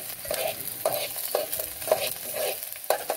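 Onions fry in oil for khichdi on a night trek at Rajgad Fort, with a spoon stirring and scraping the pan in a regular rhythm over a soft, steady sizzle, close by and with no talking.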